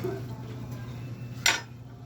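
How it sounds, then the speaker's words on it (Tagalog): A metal utensil stirs vegetables with shrimp paste in a pot, a soft clink and scrape with one sharp knock near the end, while someone speaks. "Halu-haluin natin ang gulay."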